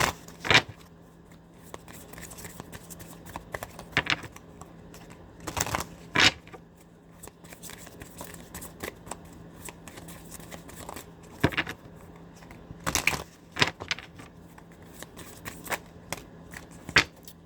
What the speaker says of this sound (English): I'm going to check my Deadpool cards.